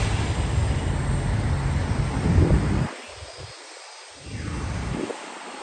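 An Atlas Air cargo plane passes overhead with a steady, fairly loud engine roar that drops away for a moment and then swells back as a softer rumble, with no voices.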